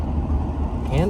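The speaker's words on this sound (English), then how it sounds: "So you can hear that engine." A 1997 Pontiac Grand Am SE coupe's Quad 4 engine runs steadily with a low, even hum from inside the moving car, brief and fairly loud.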